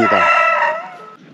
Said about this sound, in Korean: 보시다시피 이렇게 여유롭게 잘 닭들이 놀고 있습니다